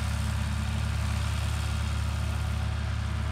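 A tractor engine runs steadily in a hay field, a continuous low idling drone at moderate distance with no breaks or voices.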